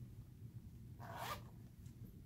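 One quick zipper pull on the pocket of an instrument case, a faint, short rasp lasting under half a second against a quiet, still room.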